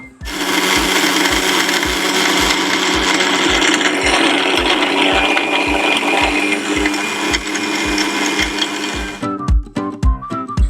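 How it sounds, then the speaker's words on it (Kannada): A mixer grinder whirs loudly and steadily, blending a banana smoothie with a rhythmic churning pulse, then switches off near the end, leaving a few clattering knocks. "ಒಂದು ಸ್ಮೂದಿ ರೀತಿ ಒಂದು ಜ್ಯೂಸ್ನ ರೀತಿ ಮಿಕ್ಸಿ ಮಾಡ್ಕೊಳ್ಳೋಣ"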